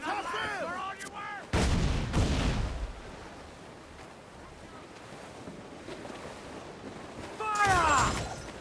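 Ship cannons fire in Assassin's Creed Black Flag, a pirate naval battle at sea. Two heavy booms land several seconds apart, each rolling into a long washy decay over steady wind and ocean noise, with shouted crew voices at the edges.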